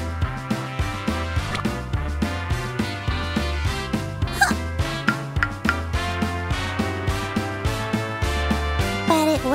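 A cartoon dog yips and barks over bouncy, rhythmic background music in a children's animated episode.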